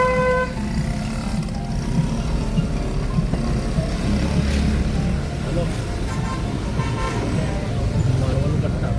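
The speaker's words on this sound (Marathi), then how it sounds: "आत्ताच इथे एवढी ट्रॅफिक आहे." Busy road traffic at a crowded village temple fair in Malvan, with repeated car horn toots over a continuous engine rumble and people talking nearby.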